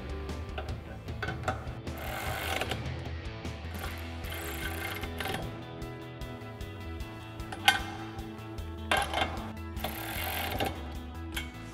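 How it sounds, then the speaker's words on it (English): A ratchet with a 13mm socket tightens nuts on a Rough Country nudge bar bracket on a 2021-2024 Ford Bronco, making bursts of quick clicking pawl sounds and metallic taps over a faint steady background hum. "So we'll grab our 13mm socket on our ratchet, kind of hold these in place gently. Go ahead and tighten these down."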